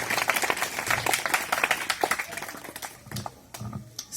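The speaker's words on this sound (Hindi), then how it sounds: "जोरदार तालियां इसके लिए।" A crowd at a Lok Chetna Yatra public gathering gives a burst of hearty applause, many quick close claps blending into a crackling patter that thins out toward the end.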